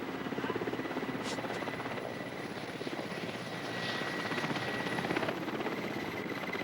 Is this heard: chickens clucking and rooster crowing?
no